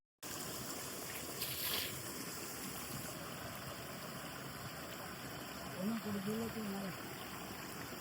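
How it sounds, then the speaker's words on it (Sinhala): A clear forest stream flows steadily at close range after heavy rain in the Nuwaragala jungle, a continuous broadband rush with a brief voice-like murmur partway through. "මේ වගේ ජල පහරකින් වතුර ටිකක් පුරව ගන්න එක ප්‍රශ්නයක් වෙන්නේ නැහැ"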